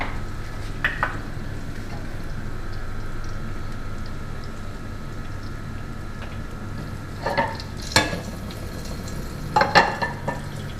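Cumin seeds crackle in hot oil as a low steady sizzle under a faint hum, with a few sharper pops and clinks of a utensil against the pan.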